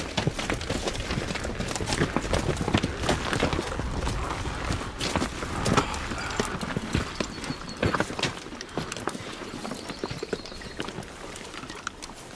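Hooves clip-clop steadily on hard ground as horses move at a walk or trot, with a brief whinny and some scuffing, fairly close and continuous throughout.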